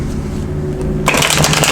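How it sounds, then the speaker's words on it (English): Tarot cards are riffled and shuffled up close, a crisp burst of flapping and clicking over a low background hum. "I'm going to shuffle for a few minutes."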